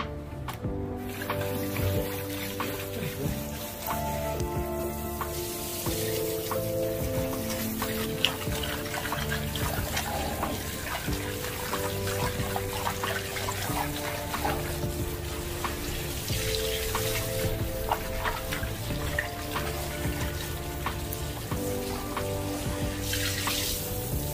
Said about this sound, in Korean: 자, 물을 붓고요. 물을 붓습니다.